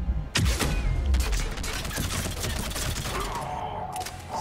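Rapid gunfire from a firefight in Mass Effect 3's Omega DLC, dense bursts of shots rattling continuously and loud over the game's background noise.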